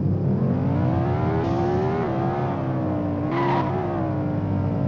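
A car drifting in the Extreme Car Driving Simulator video game, its engine droning loudly and steadily with rising and falling pitch and brief tire-screech bursts, no talking.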